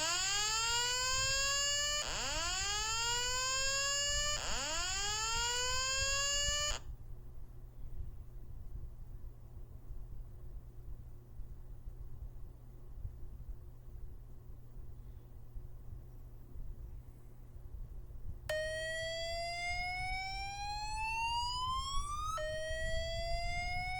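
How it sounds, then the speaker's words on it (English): An EST voice evacuation fire alarm sounds loud rising whoop sweeps, three in quick succession, then goes quiet under a steady low hum before two more whoops return near the end. "Other True Alert speakers can have a tone like this."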